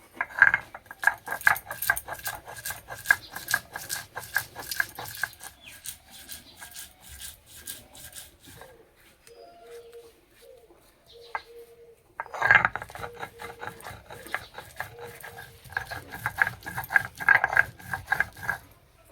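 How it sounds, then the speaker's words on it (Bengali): Black and white mustard seeds and green chillies are ground on a flat grinding stone, a rhythmic scraping and rubbing in quick repeated strokes, close up, pausing briefly in the middle before resuming. "এই রান্নার জন্য মশলা বেটে নেব। সিলে দেব কালো সর্ষে, সাদা সর্ষে, কাঁচা লঙ্কা।"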